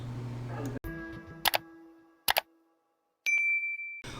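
Notification bell sound effect: a couple of sharp metallic dings ring out with short decaying tails, separated by silence, followed by a sustained bright tone near the end.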